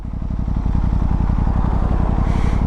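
A quiet new motorcycle rumbles steadily while riding, its engine pulsing in a fast, even beat close to the listener, with a smooth gear change from the quick shifter and no talk.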